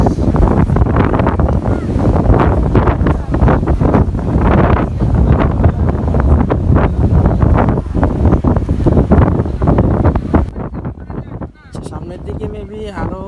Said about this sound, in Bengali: সাগরের গর্জন প্রচুর পরিমাণ গর্জন হচ্ছে